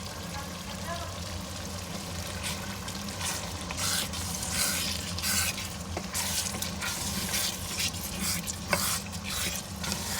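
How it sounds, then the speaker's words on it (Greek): A Greek pastitsio mixture is stirred in a sizzling pan, with spoon scrapes and clinks over steady frying while people talk nearby. "Θα τα ανακατεύω εγώ."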